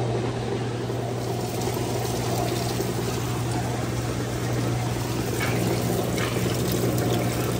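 A Roper top-load washing machine runs its trickle rinse, water pouring and splashing steadily into the tub with a constant low hum underneath, close and fairly loud throughout.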